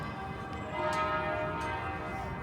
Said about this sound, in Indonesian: Kita bisa dengar suara dentang lonceng.